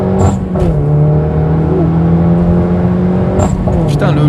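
Turbocharged Citroën DS3 Performance accelerating hard, engine drone rising steadily with sharp hissing bursts from the dump valve between shifts, recorded from inside the car.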